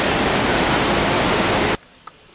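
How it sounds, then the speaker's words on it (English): Waterfall inside a cave at the end of a tunnel: a loud, steady hissing rush of falling water that cuts off abruptly, leaving near silence. "At the end of the tunnel is a fascinating waterfall."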